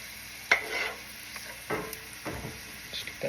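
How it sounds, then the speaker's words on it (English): Filet mignon sears in melted butter in a hot pan, giving a steady close sizzle broken by a few sharper crackles and pops, with no talking. "Now that that's doing that, nice sizzle."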